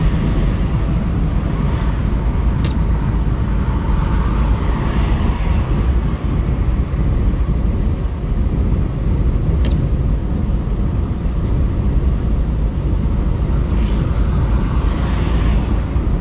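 A car cruises slowly along a French motorway, a steady broadband rumble of engine, tyres and wind holding at constant loudness throughout with no voices.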